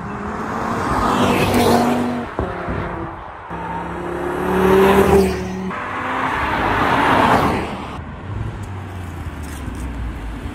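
A brand-new Audi RS3 driven aggressively, its engine surging and revving in repeated loud waves with passing whooshes, fading toward the end.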